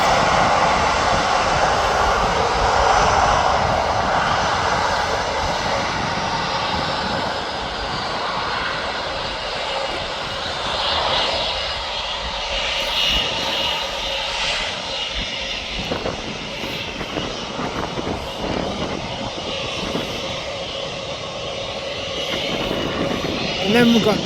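Turkish Airlines Airbus Neo jet airliner at Birmingham Airport, its engines roaring steadily and fairly loud throughout, with a broad rumble and hiss and a voice talking over it.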